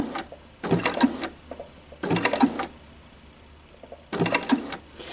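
Sewing machine running narrow zigzag stitches for machine appliqué on a quilt, three short close bursts of rapid mechanical whirring separated by quiet pauses.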